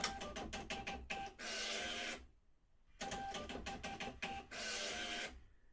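A fiscal printer prints cash register receipts in two bursts, each a rapid run of clicking line feeds followed by a longer buzzing stretch, with a short quiet gap between the runs.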